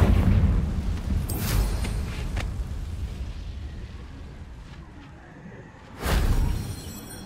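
Confringo blasting spell explosions in Hogwarts Legacy: a burst near the start and a louder, closer blast around six seconds, with a dense rumbling game ambience underneath.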